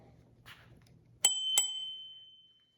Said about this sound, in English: Comes with a little bell.